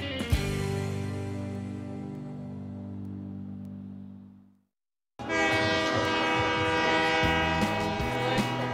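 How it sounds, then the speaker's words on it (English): A train sounds a loud sustained horn that fades out, and after a brief silence comes the heavy rumble and clatter of a passing train, with a second horn blast near the end. "Nothing will wake you up in the morning like the sound of a train horn"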